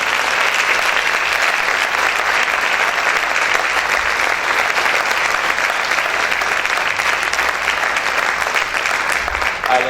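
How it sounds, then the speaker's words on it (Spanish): A worship congregation claps hard and long, a steady roar of many hands applauding close and loud for the full stretch with no pauses. "Aplaude fuerte a tu Dios en esta hora."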